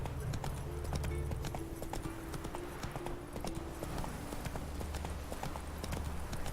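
Horse hooves clip-clop in a steady trot from a video game horse, a dense rhythmic patter over a constant low game ambience, with a faint whinny-like tone in the background.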